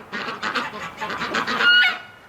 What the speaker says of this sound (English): The ducks are doing nothing, guys.